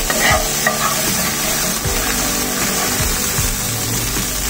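Chili paste being stir-fried for Schezwan chicken: loud, steady sizzling from a close pan, broken by repeated scraping strokes of a spatula stirring at an even rhythm, with no talking.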